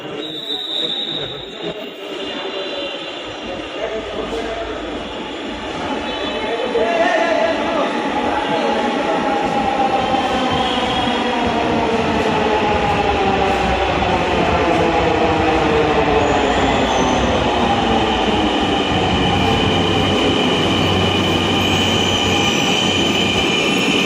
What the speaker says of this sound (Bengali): অবশেষে মেট্রো রেল চলে আসলো।